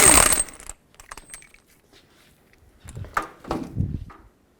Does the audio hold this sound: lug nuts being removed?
yes